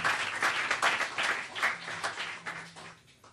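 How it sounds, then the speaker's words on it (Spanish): A church congregation applauds, a steady wash of clapping from many hands that stays fairly loud before tapering off toward the end. "Dale un aplauso grande a Rey"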